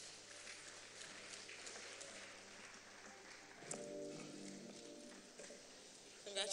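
Steady clapping from an audience at a business environment award ceremony, continuous and moderately loud, with speech from a presenter running over it.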